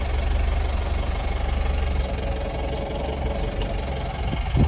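A motorbike engine runs steadily close by, a continuous low rumble with a faint knocking pulse that holds even throughout and swells slightly at the very end, with no one talking.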